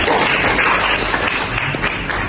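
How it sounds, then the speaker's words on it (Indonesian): A high school biology class claps for a student, a dense, even burst of many hands applauding throughout. "Tepuk tangan dong buat Bintang."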